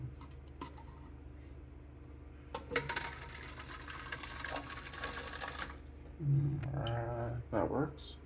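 Filtered reverse osmosis water runs from a hotel dispenser into a cup, a few seconds of steady pouring rush, followed by a brief voice and small clinks.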